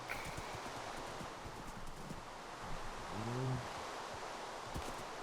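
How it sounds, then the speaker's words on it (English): A horse moves along in a video game, with soft hoof clops and rustling over a steady windy ambience, plus a brief low whinny-like tone near the middle; no talk. "Let's take the horse back."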